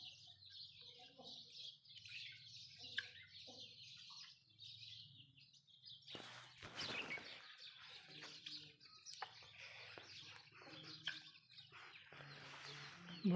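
Hens in a rural yard cluck and call in bursts with bird chirps around them, a loud rustling or handling noise breaking in midway, recorded outdoors on a rainy day.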